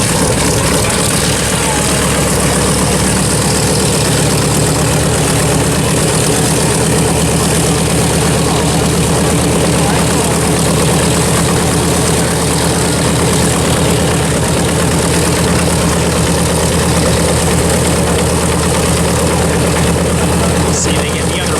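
Engines of a B-25 bomber run at an airshow or airfield, a loud, steady low drone that holds unbroken throughout, with faint voices in the background.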